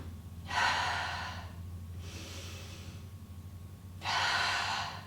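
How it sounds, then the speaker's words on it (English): Three audible breaths during Pilates lateral breathing into the rib cage, airy inhales and exhales at close range, the first and last strongest, with a faint low hum underneath. "Lateral breathing is being able to breathe into your rib cage"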